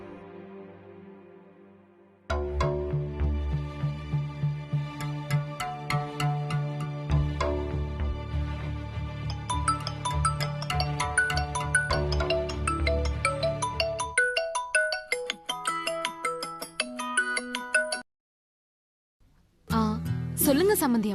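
A phone ringtone plays during an outgoing call in a Tamil TV serial scene, a loud repeating electronic melody that runs for around sixteen seconds, cuts out, then briefly starts again near the end.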